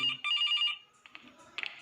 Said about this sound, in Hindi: ओके अब आवाज़ आ रही है। फ़ोन कहाँ है?